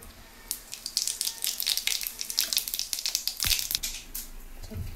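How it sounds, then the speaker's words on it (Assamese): Pabho fish frying in a pan, a close, dense crackle and sizzle of spattering oil that runs steadily throughout, with a dull knock partway through. "এতিয়া মই পাভ মাছখিনি এইদৰে ভাজি ল'লোঁ এটা টাবত ধুনীয়াকৈ"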